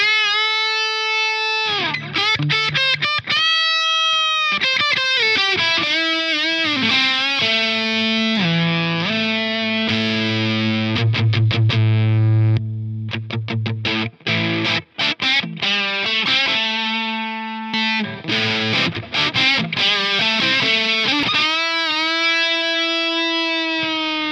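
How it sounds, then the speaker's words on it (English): Electric guitar through a Walrus Audio 385 Mkii overdrive pedal in its higher-gain plus mode, thick saturated riffs mixing sustained chords, quick muted chugs and single-note runs, loud and up front throughout. "The 385 plus adds more gain at the input stage, giving us even more distortion than before."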